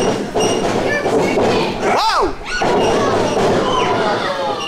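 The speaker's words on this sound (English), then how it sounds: "Hot shot from Mephisto." A pro wrestler's body slams onto the ring mat from a hot shot move, a dull thud in the middle of loud, steady crowd noise, with commentators talking over it.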